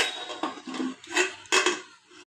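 A metal lid clanks several times as it settles onto a pot of cooking dal in a home kitchen, with sharp, close, bright knocks in quick succession.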